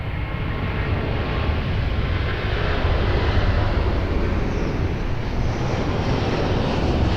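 An airplane on approach to runway 02 at Lisbon Airport roars steadily and loudly, a broad continuous engine rumble that holds level for the whole stretch.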